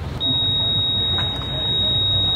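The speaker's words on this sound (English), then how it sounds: "Then you're gonna get an alarm," A Spectra Watermaker control panel alarm sounds as one sustained, piercing electronic tone that holds steadily for about two seconds over a low background rumble.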